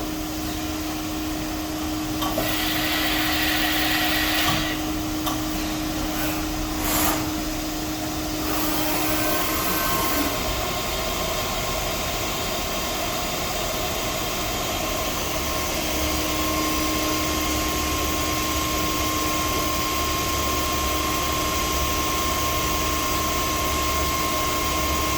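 A Fadal vertical machining center runs its spindle at 1,000 RPM while making feed movements, a steady close whine and airy hum with a sustained tone that shifts partway through.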